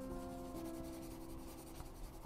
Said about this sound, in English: and scribble a nice thick layer